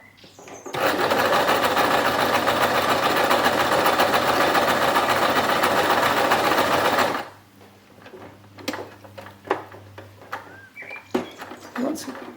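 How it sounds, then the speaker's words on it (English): A Brother X3 sewing machine runs a straight stitch in one steady, loud burst of about six seconds, then stops, followed by quieter handling clicks and rustles. "I'm going to put it on 0 to show you a straight stitch."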